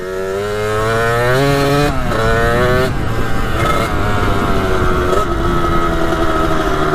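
A Kawasaki KX 80 dirt bike engine revs loud and close, its pitch sweeping upward over two strong pulls before settling into a buzzy, uneven idle-to-midrange drone.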